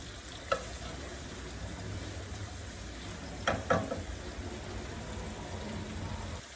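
Bitter gourd (karela) bhaji frying in a covered pan, giving a steady low sizzle with a few soft clicks and knocks of pan or lid, heard up close with no talking.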